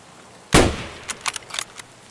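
A single loud gunshot from a gun in the video game Escape From Tarkov, followed by a string of quieter sharp clicks and rattles as the shot fades, with no talking.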